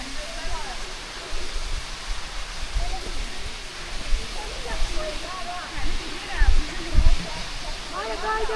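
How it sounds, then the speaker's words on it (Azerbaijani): The Dustaxana waterfall near Sım village in Astara roars as a constant broadband rush of falling water. Voices talk intermittently over it, and low thumps appear now and then. "Şirhal şəlaləsi, el adı ilə Sım, Ballıqaya və bu da Dustaxana şəlaləsi."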